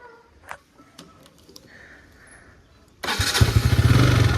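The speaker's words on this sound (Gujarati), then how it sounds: "આપણી બાઈક ચાલુ થઈ ગઈ છે." A motorcycle engine catches after a few quiet ticks and clicks, bursting into a loud, steady idling rumble close by that carries on to the end.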